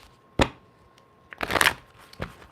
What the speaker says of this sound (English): quick shuffle for the Leos